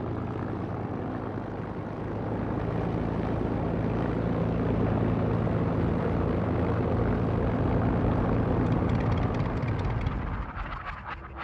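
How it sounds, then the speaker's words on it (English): RAF Spitfire fighters of a Norwegian unit flying over Scotland during the Second World War, a loud steady piston-engine drone that swells and holds for several seconds before easing off, with no voices. "These Spitfires are operated by an RAF Norwegian unit, flying sorties into their occupied country from bases in Scotland"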